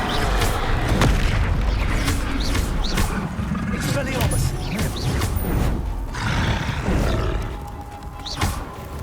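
A Bombarda explosion spell in the Hogwarts Legacy video game sets off repeated loud booms with a roaring rumble, amid a dense, continuous barrage of impacts.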